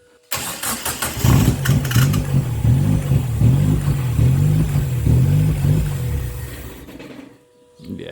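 A Mazda MX5 engine on its factory ECU with a basic wiring harness in a Westfield locost cranks in a rapid pulsing rhythm, nearly catching for several seconds before stopping, close and loud.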